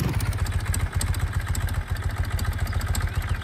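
Motorbike engine in the farming video game Farmers Life, chugging with a steady low rhythmic pulse that holds at a constant idle-like level throughout.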